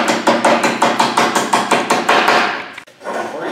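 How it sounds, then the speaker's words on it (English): A chipping hammer knocks flux coating off a bent low-hydrogen stick welding rod during pipe welding prep, striking in a fast, steady run of a dozen sharp metallic raps that break off near the end. "just bust the flux off with your chipping hammer"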